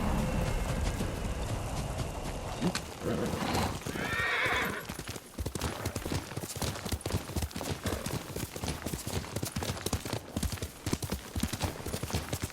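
A horse in the video game Ghost of Tsushima gives a clear whinny, followed by a long run of close, rhythmic hoof clip-clops against a steady ambient backdrop.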